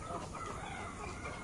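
Native chickens cluck softly at a distance over a low, steady outdoor background.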